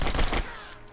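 Rapid gunfire in the video game Turning Point: Fall of Liberty, a quick burst of shots up close that cuts off and leaves a fading echo.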